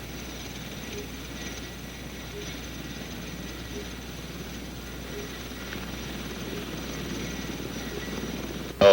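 A CH-54 heavy-lift helicopter in flight gives off a steady, continuous engine and rotor drone from start to finish, with a brief louder burst right at the end.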